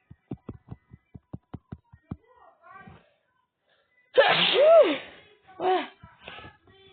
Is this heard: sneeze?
yes